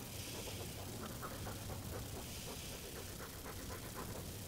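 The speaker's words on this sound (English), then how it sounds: "All that noisy dog breath, day in, day out." A dog in the video game Dragon Age 2 pants in a steady, rhythmic loop of quick breaths, close and continuous over a low background hum.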